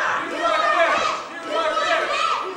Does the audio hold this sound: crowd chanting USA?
yes